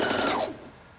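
A sewing machine stitching a scant quarter-inch quilt seam joining fabric triangles, a short quick whirring run of stitches that stops abruptly and fades within a second.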